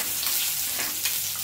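Cumin and fenugreek powder sizzle in hot oil for a tempering, a steady close crackle with soft bursts and no voices over it.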